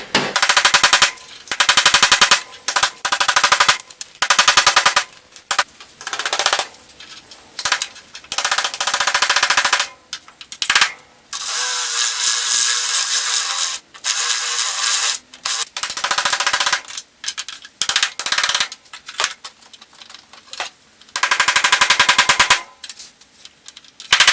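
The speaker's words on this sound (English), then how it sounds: "I've got another chisel that I've narrowed up, so I'll use that to separate." Narrowed steel chisel driven, likely by air hammer, to split brazed body panels apart on a 1966 Ford Mustang convertible teardown: loud rapid hammering bursts, stopping and restarting repeatedly, close up with no talk.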